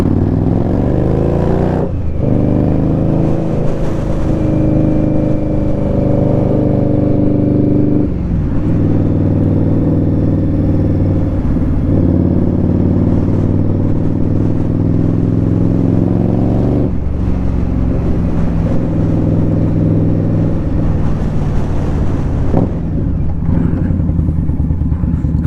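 A loud Indian Scout Bobber motorcycle rides through traffic, its deep engine droning steadily with repeated revs and gear changes close up, no talk over it.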